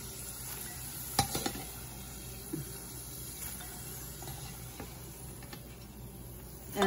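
Potatoes fry in oil in a pan, giving a soft, steady sizzle near the pan with a few sharp utensil clicks and scrapes. The sound is quiet and there is no talking.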